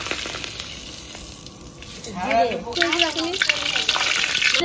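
Bay leaves hit hot oil in a heated pan, crackling and sizzling near and steady, growing louder and busier midway, with a voice speaking over part of it.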